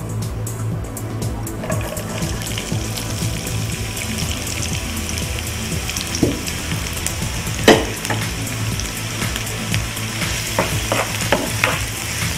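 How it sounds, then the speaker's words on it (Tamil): Chopped onions frying in hot oil with garam masala, cinnamon and cloves on a TV cooking show, a steady loud sizzle with occasional stirring scrapes and clinks throughout. "அடுத்தது நம்ம போட போறது நறுக்கிய வெங்காயம்."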